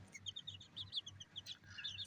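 Chickens and their chicks chirping in a backyard flock, a run of quick high peeps repeating close by over soft low clucking, fairly quiet overall.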